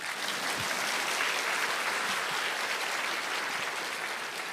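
Steady, full applause from a church audience at a festival event, a dense continuous clapping wash that stays loud for several seconds with no talking over it.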